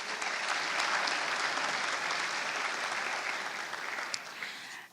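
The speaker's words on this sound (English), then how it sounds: "Please, a round of applause for our director, David Kennedy." Steady, dense applause from a crowd, sustained and even throughout, tapering slightly near the end.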